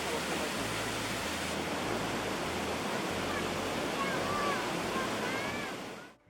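The Triberg waterfalls in the Black Forest rush in a loud, steady broadband roar of falling water, close and unbroken until it cuts off abruptly at the end.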